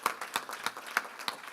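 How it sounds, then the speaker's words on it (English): Sparse, slow handclaps at a county government press event honoring a police chief, about five distinct claps spaced evenly and fairly faint, with no voices. "Can we give Chief McGall another round of applause"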